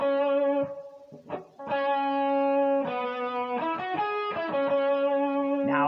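A distorted electric guitar plays a short blues lick, sustained bent and pulled-off notes in a phrase of several attacks, loud and close with no talking.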